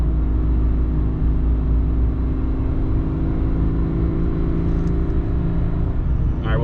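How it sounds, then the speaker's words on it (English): A 2021 Chevy Duramax 3.0 diesel turbo pickup overloaded with 12,000 pounds, climbing a hill under heavy load, a steady loud low engine drone with a faint turbo whine, continuous and close. "You can actually hear the turbo and the diesel sound pretty good now."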